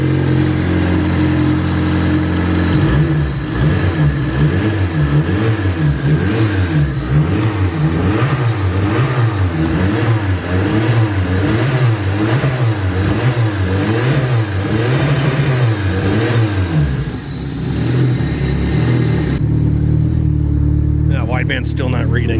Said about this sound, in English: Motor's still got a little bit of shake to it